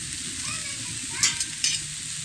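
Boiled chowmein with egg and vegetables tossed in a hot pan, a steady close sizzle with a few sharp scraping stir strokes near the end.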